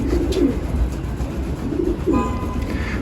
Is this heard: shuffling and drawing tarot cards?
no